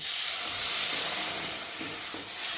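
Water poured into frying mustard masala in a pan sets off a loud, steady steam hiss and sizzle that eases slightly before flaring again, heard up close with no talk.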